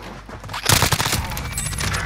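Video game shootout with a burst of rapid gunfire breaking out after a short lull, then dense continuous shots and noise continuing to the end, loud and close.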